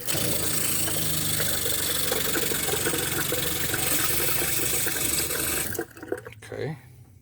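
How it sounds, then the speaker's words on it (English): An RV water pump runs inside a Class B camper van, a loud steady whirring hum mixed with rushing water that cuts off abruptly near the end, followed by a few faint knocks. "Turn the pump on."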